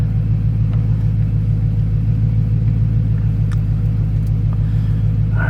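Mercedes CLK55 AMG engine running after a cold start in freezing weather, a loud, steady low idle rumble with a faint pulsing throb and a few small clicks, no voices.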